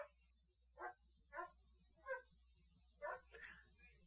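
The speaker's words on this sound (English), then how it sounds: "these dogs are riled." Several riled-up dogs barking in short, sharp bursts: about five distinct barks spaced across a few seconds, fairly distant and faint over a low steady hum.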